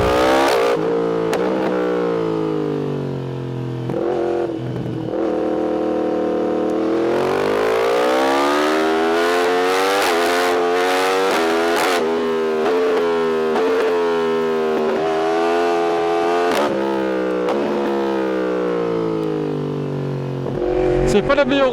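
A 2024 Yamaha R1 engine revs hard while being ridden on the road, a loud rising and falling whine that climbs through the gears with brief drops between shifts, heard close from the rider's position.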